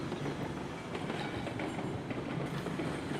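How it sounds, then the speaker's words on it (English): A whole train backs down a mountain in the Railroads Online video game, a steady, loud rumble with faint rhythmic clicking of wheels and a brief high squeal, with no talk. "I am going to back this whole train down the mountain."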